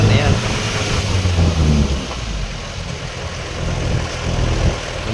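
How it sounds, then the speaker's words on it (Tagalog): A vehicle engine labors and revs climbing steep mountain roads in Doña Remedios Trinidad, Bulacan, a loud droning rumble that swells and eases, with a voice talking over it. "Galit na galit yung aldak ng makina dahil akyatin yung mga daan na yan."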